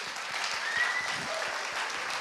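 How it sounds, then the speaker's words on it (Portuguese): An audience claps for Mário Lago, a continuous round of applause from many people, moderately loud and sustained, with no speech over it. "aplausos para Mário Lago, por favor"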